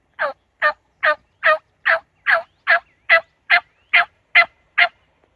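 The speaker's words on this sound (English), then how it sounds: "Birds were gobbling pretty good on the roost" Wild turkeys gobble from the roost, a crisp run of a dozen evenly spaced calls, fairly loud and clear against an otherwise quiet morning.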